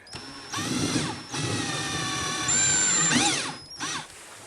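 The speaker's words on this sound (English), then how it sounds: "we enlarged the hole with a 10 millimeter bit, and this time I'm definitely using a stop" A power drill with a 10 mm bit bores through plastic in several short bursts, its whining pitch rising and falling as it starts and stops, close up with no talking.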